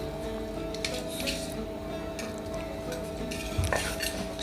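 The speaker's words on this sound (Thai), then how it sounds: "ใส่แล้วก็คลุกอีกครั้งหนึ่ง" Papaya strips, mixed vegetables and onion being tossed and pounded in a mortar for a spicy chicken-feet som tam, a steady wet squishing with light clinks of the pestle and utensils, close and quiet.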